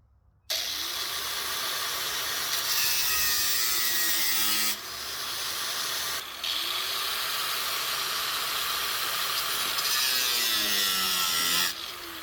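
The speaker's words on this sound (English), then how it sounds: "So I'm going to grind into these just a little bit." A power grinder biting into metal parts for a smoker build, a loud continuous high whining grind close by in long passes, with brief pauses and pitch dips as the disc loads up.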